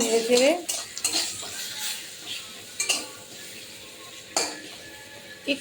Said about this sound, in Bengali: তেল গরম হয়ে গেছে, আমি দিয়ে দেবো আলু